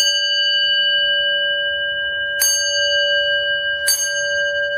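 A training bell rings in a quiet hall: two sharp, bright dings about a second and a half apart, each ringing on with a sustained metallic tone over faint room noise.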